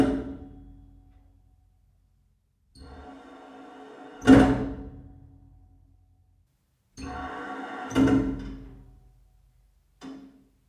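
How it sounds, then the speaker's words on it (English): Water hammer in plumbing pipes: several separate loud bangs and thuds, some preceded by a rising rush of flow, each hit ringing briefly before fading, with near silence between them. "It's the sound of water hammer, sometimes called hydraulic shock or surge."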